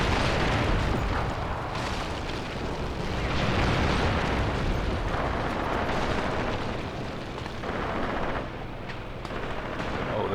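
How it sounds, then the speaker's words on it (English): Shelling in the video game Graviteam Tactics Mius Front, with a church tower under fire: dense, rumbling explosions and distant gunfire rolling continuously, heavy low booms layered over one another. "Oh, the church tower is under fire."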